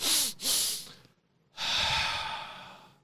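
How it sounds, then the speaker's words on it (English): Two quick sniffs draw air in through the nostrils, followed after a short pause by a long, loud exhaled sigh, close to the microphone with no other sounds. "it's a double inhale through your nostrils and then a big sigh"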